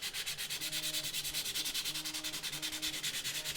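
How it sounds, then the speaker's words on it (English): Steady rhythmic scraping of sandpaper rubbed back and forth over the back of a hard plastic Spider-Man mask lens shell, close up, in quick repeated strokes with no talking. "I'm just sanding the back a little bit to get the little hanging chad type things"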